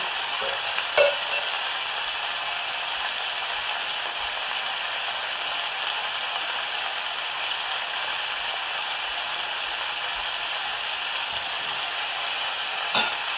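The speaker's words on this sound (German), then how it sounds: "Auch von der Seite schön scharf anbraten." Continuous hiss of a meatball searing in a pan, steady and close, broken only by a sharp tap near the start and another near the end.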